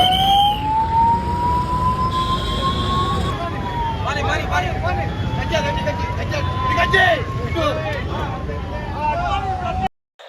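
Ambulance sirens wailing in heavy traffic, a loud rising and falling tone that carries on for about ten seconds over road noise and crowd murmur, then ends abruptly.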